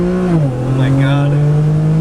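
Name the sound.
car burnout, engine revving and tires squealing, AWD Infiniti G35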